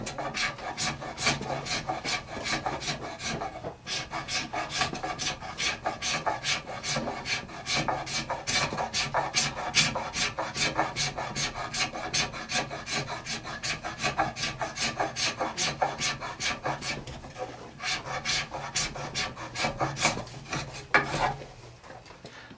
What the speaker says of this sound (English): all I did with the scrape is go to the next growth ring